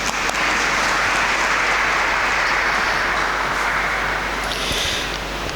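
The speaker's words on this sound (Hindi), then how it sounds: "तो तालियां बजाते हैं।" Steady, dense applause from an audience at a solemn religious profession ceremony for a Daughters of St. Paul sister, sustained and full throughout before tapering slightly near the end.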